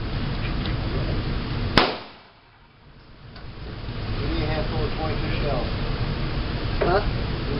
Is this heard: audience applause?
no